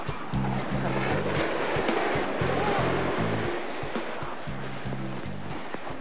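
Steady ocean surf washes continuously with a broad rushing roar, while a low rhythmic thumping repeats in the background.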